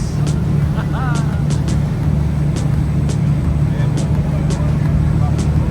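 A steady, loud motor drones low and continuous from a boat underway, with brief high squeaks and voices over it.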